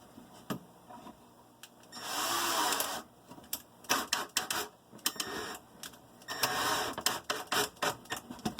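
Screw gun driving screws into wood while building an aquarium canopy, bursts of whirring motor lasting about a second each, followed by short clicks and taps, close and fairly loud.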